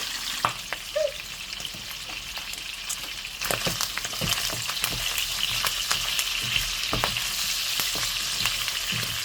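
Pork sizzles steadily in its own rendered fat, a dense crackling spatter with scattered sharper pops and a louder stretch from the middle onward, close by and with no talking.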